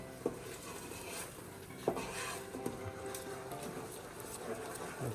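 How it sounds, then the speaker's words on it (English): Pozole verde ingredients being stirred as they sauté in a pot, a steady sizzle broken by a few sharp clinks and scrapes of a utensil against the pot, heard up close. "So we want to stir this around."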